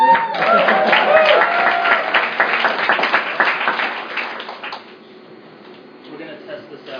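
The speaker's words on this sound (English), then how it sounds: "You can clap again." Applause from an audience at a startup weekend event in Oslo, a dense burst of many hands clapping for about five seconds before it quickly fades into a quiet room.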